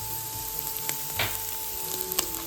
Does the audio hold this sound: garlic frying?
yes